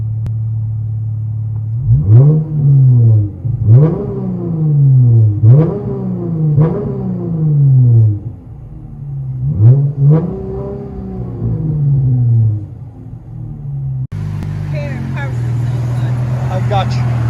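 Exhaust of a 2016 Dodge Challenger with a 3.6L V6 and an aftermarket loud exhaust, heard from inside the cabin: a series of deep revs rising and falling in repeated bursts, followed by a steadier rumble with voices joining at the end.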